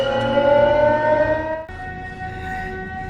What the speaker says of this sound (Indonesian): suara sirine sudah terdengar